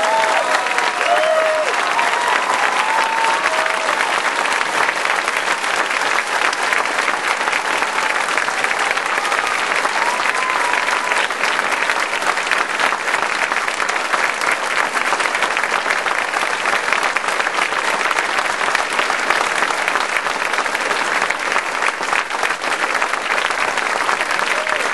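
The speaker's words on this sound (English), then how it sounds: "I want you, by your applause, to show your affection for this family" Sustained, dense audience applause for a grieving family at a political speech, steady and loud throughout with no break, a broad wash of many hands clapping.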